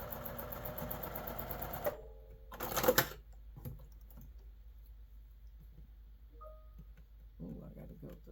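Sewing machine stitching a granny square quilt block, a steady fast whirring run for about two seconds before stopping, followed by quiet handling clicks and rustles.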